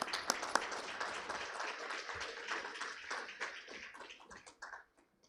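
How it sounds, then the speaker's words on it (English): A conference audience gives brief, scattered applause, with light hand claps that rise and then taper off into silence. The sound is faint and close to the recorder. "can we have a round of applause?"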